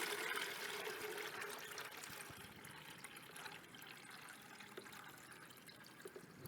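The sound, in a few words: water poured into a cookie container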